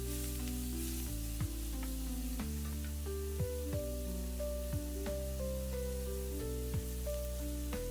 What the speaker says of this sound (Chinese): 再放一点水淀粉勾薄芡，翻炒均匀